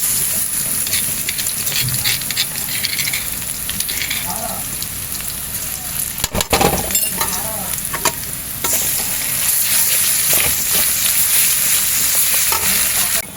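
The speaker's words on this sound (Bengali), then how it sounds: "এবার আমি আদা রসুনের পেস্ট দিয়ে দেব" Ginger-garlic paste sizzles and fries with browned onions in a pan for potato pulao, a steady loud crackle with stirring scrapes and a brief clatter midway, no talk over it.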